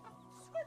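A brief, soft cluck from a hen, close by and alone, lasting only a moment.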